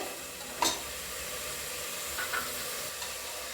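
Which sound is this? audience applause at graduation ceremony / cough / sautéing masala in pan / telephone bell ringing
sautéing masala in pan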